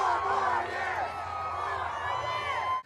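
Demonstrators supporting President Trump form a crowd that cheers and shouts, a busy mix of overlapping voices and whoops at moderate distance.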